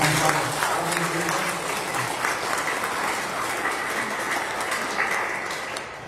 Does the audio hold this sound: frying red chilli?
no